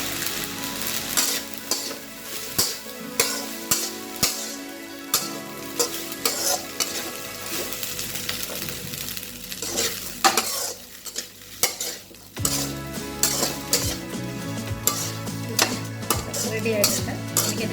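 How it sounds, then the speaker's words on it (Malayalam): A spoon stirs coconut rice with a splash of vinegar in a hot pan, repeated scraping and clinking strokes over a steady close sizzle, loud and continuous with no talking. "ഇതൊന്ന് നന്നായിട്ട് ഇളക്കിയെടുക്കാം."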